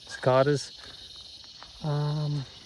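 Cicadas in Australian bushland along a walking track keep up a steady, high drone throughout, joined by two louder, drawn-out harmonic calls close by.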